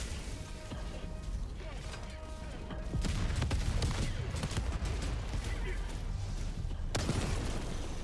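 Recoilless rifle fire in a video game battle against robots, sharp blasts and mechanical reload clatter over steady combat rumble, with a speaking voice over the action.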